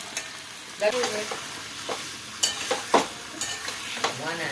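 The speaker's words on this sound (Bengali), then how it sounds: "সমস্ত রান্নাবান্না কমপ্লিট এখন মাংস কষা চলছে" Spicy mutton for mangsho kosha is stirred and fried in a pan, with a continuous sizzle broken by several scraping stir strokes at close range.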